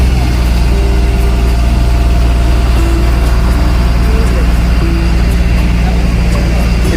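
A boat engine off Kavaratti drones steadily and loudly while towing a broken-down boat on a rope, a constant low rumble with some faint voices under it.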